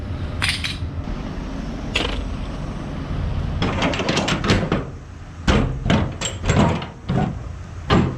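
Scania truck trailer doors in Ireland swing open with metallic clanks, rattles and bangs in quick irregular bursts over a steady low engine rumble nearby.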